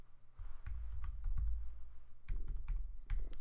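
Typing on a computer keyboard into a Numbers spreadsheet, close, soft irregular keystrokes in two quick bursts with a short pause between, no talk.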